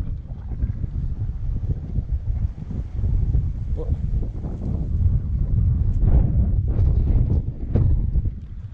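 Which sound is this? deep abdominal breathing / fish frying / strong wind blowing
strong wind blowing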